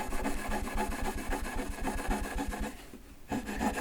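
Oil being rubbed into an acoustic guitar's wooden fretboard, a steady close rasping friction with quick back-and-forth strokes, a brief pause near the end before the rubbing resumes; no talking.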